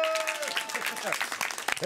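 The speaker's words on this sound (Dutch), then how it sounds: "we mag best wel een applausje zijn" A short burst of clapping from a small crowd applauding a flyer designer, dense and fairly steady for about two seconds, with voices mixed in.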